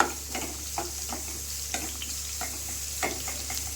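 Green chillies and onions frying in a pan for paneer curry, a steady sizzle over a low hum, broken by repeated scraping stirs and light ticks, no talking.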